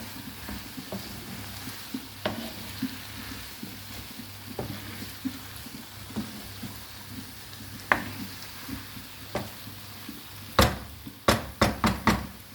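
Mushrooms sautéing in a covered pot, a steady low sizzle running throughout, broken by occasional stirring clinks and a burst of sharp utensil knocks against the pot near the end.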